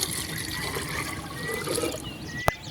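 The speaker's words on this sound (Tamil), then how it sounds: "முருங்கை இலைய மிக்சியில் போட்டு அரைச்சி இதில் வச்சுருக்கோம் இதில் தண்ணி ஊற்றிக்கலாம்" Water trickles steadily into ground moringa leaf paste, making a close, continuous liquid pour with a soft gurgle and a single sharp tap near the end.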